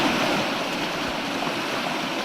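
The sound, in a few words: rushing floodwater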